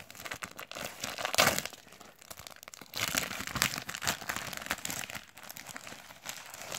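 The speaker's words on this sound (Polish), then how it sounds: "Dzisiaj otworzymy sobie ten oto zestaw startowy z albumem" Plastic wrapping crinkles and crumples as a Topps sticker starter pack with album is unboxed, close and fairly loud in uneven bursts with a brief tearing sound, and no voices.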